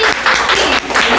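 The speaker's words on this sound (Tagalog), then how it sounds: "Okay, palakpakan natin." Applause rises and falls across a Christmas community gathering after an intermission dance by kids, with the clapping arriving in uneven swells and sounding fairly near and moderately loud.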